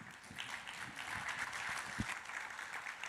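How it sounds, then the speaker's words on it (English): Conference audience applauding after a talk on AI and XR, a steady wash of many hands clapping at moderate distance, filling the room evenly without a clear break. "Round of applause."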